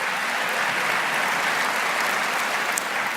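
Steady, dense applause from a large audience during a city mayor's State of the City address, a continuous wash of clapping with no break.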